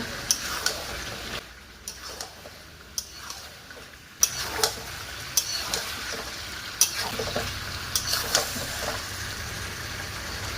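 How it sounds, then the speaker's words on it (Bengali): Chicken and fried potatoes being sautéed in a pan, a quiet continuous sizzle with sharp ticks and clinks of a spatula against the pan recurring irregularly, close up. "মাংস আলুকে কিছুক্ষণ কষে নেব"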